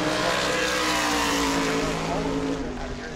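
Race car engine of the McDermott Motorsports entry at speed during World Series qualifying at New Smyrna, a loud sustained roar that fades slightly toward the end, with an announcer's voice over it.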